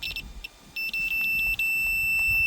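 A multimeter beeps a continuity test across the fuel vaporiser of a Ford Transit Connect, a high steady tone sounding in short bursts and then held, close by.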